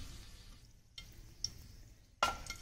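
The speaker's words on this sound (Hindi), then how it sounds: "तब तक मैं इसमें ये तड़का जो है वो डाल देती हूँ" Quiet clinks and stirring give way to a short, sharp sizzle as hot oil tempering is poured onto sooji dhokla near the end.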